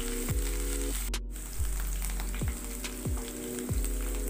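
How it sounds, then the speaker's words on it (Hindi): Ginger-garlic paste and green chillies fry in hot oil for a veg hot dog filling, giving a steady crackling sizzle broken by several dull knocks of a spoon against the pan and one brief sharp clatter. "इसके साथ साथ मैं इसमें डालूंगी हरी मिर्च, थोड़ी देर इसे हम भून लेंगे।"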